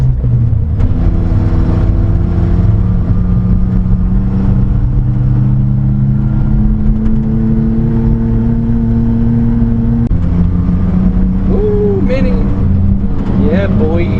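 A mini-truck with its exhaust cut off idles and revs, a loud raw engine drone holding steady pitch with a shift partway through, while a voice talks over it.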